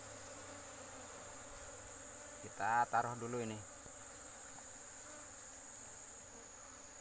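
Asian honey bees (Apis cerana) hum steadily at an open nest during comb removal, a constant faint drone with a high steady tone above it, while someone speaks briefly in the middle.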